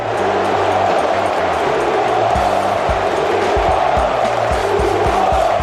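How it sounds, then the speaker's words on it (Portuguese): A large crowd of Flamengo football fans taunts and chants a former goalkeeper's name, a loud, continuous, rhythmic roar of massed voices in a stadium. "A torcida rubro-negra provocou e gritou o nome do ex-goleiro do Flamengo"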